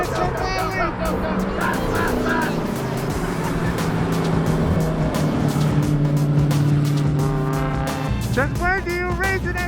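A BMW X3 road car accelerates hard at a NASA track event at High Plains Raceway, its engine note rising loud and steady with a brief tire squeal, while excited voices shout over it.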